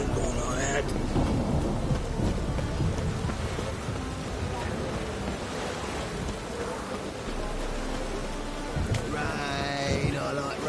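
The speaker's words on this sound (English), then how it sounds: "Rain, I like rain." Steady rain and rumbling thunder in the Witcher 3: Wild Hunt game, a continuous wash of downpour with low rolls of thunder, other game sounds rising near the end and background voices at times.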